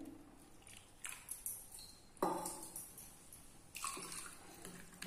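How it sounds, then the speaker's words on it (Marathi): Water is poured into a pot of Malvani chicken curry, giving faint splashing and gurgling bursts in several short pours, close and quiet. "तर मी अजून थोडं पाणी यामध्ये मिक्स करते."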